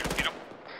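Rapid bursts of gunfire from the video game ARMA 3, a quick volley of sharp close shots in the first third of a second, then fading to a low background hiss.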